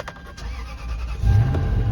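A rusted, high-mileage used car at an auction cranks and catches, the engine rumbling up louder and steadier in the second half, close to the microphone with no talking.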